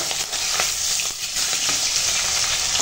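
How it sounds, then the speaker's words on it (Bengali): A hilsa fish head fries in hot oil in a pan, giving a continuous, close, crackling sizzle with scattered sharper pops and no talking. "এখন মুড়োটা ভাজা হয়ে গেছে"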